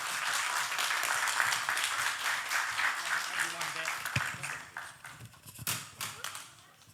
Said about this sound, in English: Regis, let's give him a round of applause.